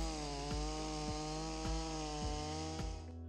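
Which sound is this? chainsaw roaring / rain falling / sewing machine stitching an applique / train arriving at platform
chainsaw roaring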